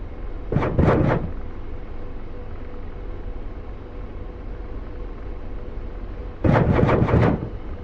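An AH-64D Apache helicopter in a video game fires rockets in two sharp bursts of three or four rapid booming launches each, several seconds apart, over a steady low rotor-like rumble.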